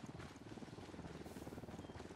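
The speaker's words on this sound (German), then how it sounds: "Der Heli ist über uns." A helicopter flies overhead in the video game Ghost Recon Wildlands, a continuous pulsing rotor chop that stays steady and fairly faint throughout.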